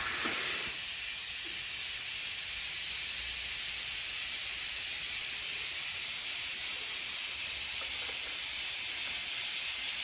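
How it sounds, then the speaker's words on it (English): A suction pump draws old fluid, dirt and contaminants out of a car's rear differential through a hose, giving a loud, steady airy hiss that runs unbroken for about ten seconds with no talk. "So not only are we sucking out the old fluid, we're sucking out dirt, we're sucking out contaminants"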